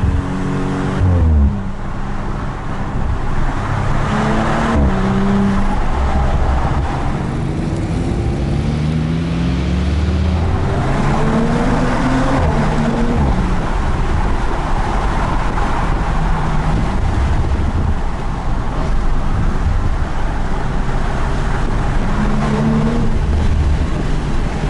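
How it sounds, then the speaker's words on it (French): A yellow Porsche GT3 phase 2 supercar drives at a mountain event, a loud, continuous engine roar rising and falling through the gears for the whole stretch, close and dominant. "Cette fois on est derrière une GT3 jaune qui est très belle"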